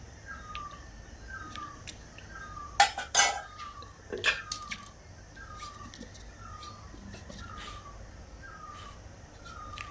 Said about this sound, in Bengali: আস্তে আস্তে নাড়িয়ে নেব